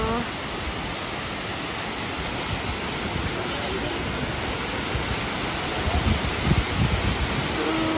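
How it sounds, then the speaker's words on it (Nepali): Octopus Waterfall on the Manaslu Circuit Trek in Nepal, a steady loud roar of falling water filling the air without pause, close by and unbroken, with faint talk under it. "हामीहरू चाहिँ यहाँ अहिले अक्टोपस झर्न आइपुग्यो"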